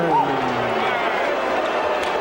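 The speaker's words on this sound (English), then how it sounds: "You hear the mixed reaction from the crowd as Julian Jackson retains his WBC middleweight title." A boxing arena crowd at a WBC middleweight title fight gives a mixed reaction to the decision, a dense, steady roar of voices, with a ringside commentator talking over it.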